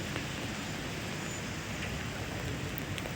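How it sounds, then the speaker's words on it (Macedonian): Steady, light rain keeps falling on the old cobbled square of a Macedonian town, a constant dense hiss with no pauses and no voices. "денеска, како и сношти, непрестајно врне дожд"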